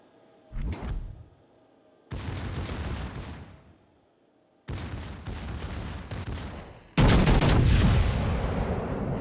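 Heavy battleship naval gun salvos in World of Warships, four separate booming blasts spaced a couple of seconds apart, each with a long rumbling tail, the last one loudest.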